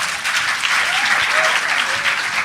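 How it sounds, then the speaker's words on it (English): An audience gives sustained, even applause as panel guests come on stage at a film event, with a dense wash of clapping and a few voices faintly audible beneath it. "Can we give them a hand of applause, please?"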